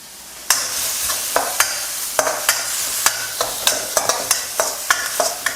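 Chopped garlic sizzles steadily in hot oil in a pan while a utensil scrapes and stirs in sharp, repeated strokes about every half second.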